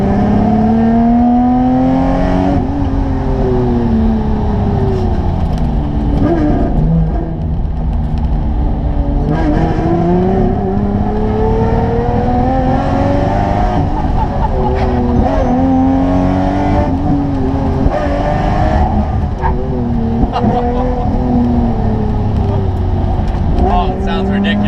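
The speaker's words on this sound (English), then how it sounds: "Drift this thing." A ten-year-old Lamborghini's engine roars and revs continuously while the car drifts, pitch rising and falling in repeated surges, loud and close from inside the car, with people talking over it.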